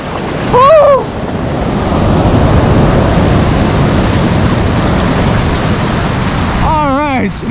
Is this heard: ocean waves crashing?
yes